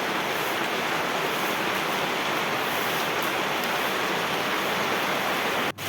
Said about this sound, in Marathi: पावसाने आणखीनच जोर धरलाय आणि खूप लागतोय